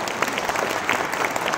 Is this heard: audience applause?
yes